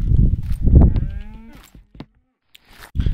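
A loud, drawn-out Minecraft cow moo close by that falls into a lower groan and fades, followed by a brief quiet gap and another low moo starting.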